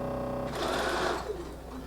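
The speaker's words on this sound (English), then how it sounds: "So I'm going to go ahead and sew this first unit together." Sewing machine running in one continuous burst as it stitches cotton fabric with plain cotton thread, a steady close whir that swells and fades within about two seconds, heard alone.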